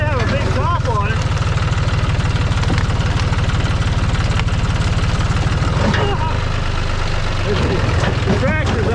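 A tractor engine idles and labors with a low, steady rumble while pushing against a locust tree whose roots sit beneath the machine, and someone talks over the running engine.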